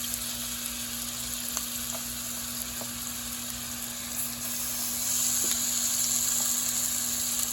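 Stew beef goes into a pan of hot oil and fries with a steady, close sizzle and hiss that grows slightly louder partway through.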